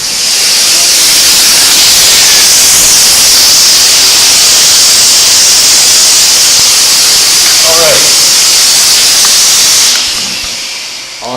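A steam room steamer scented with eucalyptus oil gives a loud, steady broadband hiss that fills the space without a break, then cuts off near the end and leaves a quieter room.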